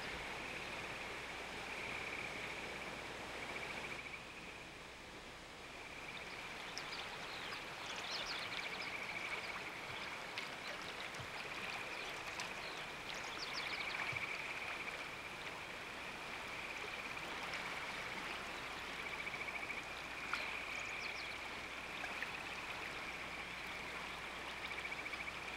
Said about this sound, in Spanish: el agua sigue su curso y gracias a eso el río Celeste logra llegar hasta la catarata